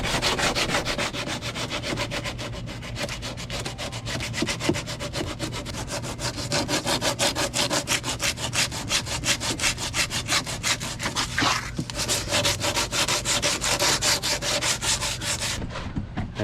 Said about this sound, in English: You don't want it tacky, but just using 60 grit sandpaper.